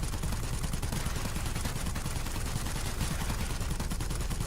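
Rapid rear-gun machine-gun fire from a Bristol Blenheim Mk.IV bomber in World of Warplanes, a dense, continuous rattle of shots that stays loud and steady from start to finish.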